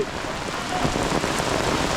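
Steady rain pouring down, a dense continuous hiss with occasional louder spatters, filling the background at an even level.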